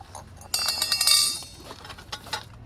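A metal spoon clinks against other items as it is packed, a short cluster of bright, close clinks followed by a fainter one.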